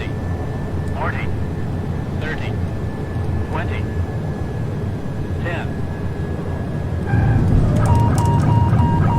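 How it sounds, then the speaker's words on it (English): Steady airliner engine roar in Microsoft Flight Simulator X, swelling louder as reverse thrusters engage near the end, with a continuous low rumble, a thin steady tone and short chirps over it. "Reverse thrusters engaged."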